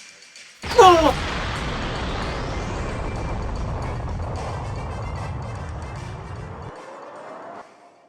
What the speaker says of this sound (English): Fruit Dragon, you have the honors. Attack him directly and end this duel! Frenzy Fruit Fire!